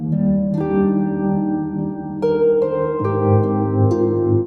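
An electric instrument runs through a Hologram Electronics Chroma Console pedal with tremolo ahead of the reverb, giving sustained, overlapping chords that change a few times, with a gentle pulsing wash, close and steady with no talking.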